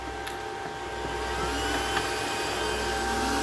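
Cooling fans of an ASIC crypto miner spin up after being powered on, a steady broadband whoosh with a faint high whine that gradually swells slightly louder, close by with no talking.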